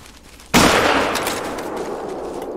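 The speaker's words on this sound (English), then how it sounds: "That was a good shot." A single loud hunting rifle shot in Call of the Wild, set in the Yukon Valley, with a sharp crack followed by a long rolling echo that fades slowly.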